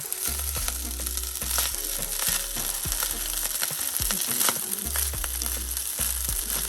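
Rice fries in a little oil in a pan, a continuous close sizzle with stirring scrapes and low bumps throughout, no voices.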